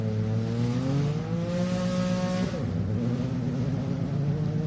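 A rally car at the SS1 start line of Rally Queensland 2023 revs hard and pulls away, its engine note climbing in pitch then dropping with a gear change, loud and close throughout.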